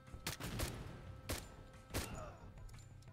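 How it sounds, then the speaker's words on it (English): Grenade launcher fire in the tactical video game Door Kickers 2: several sharp, faint bangs in an irregular burst, each with a short dull echo, playing over quiet game ambience. "We're gonna just launch a couple grenades out into the battlefield."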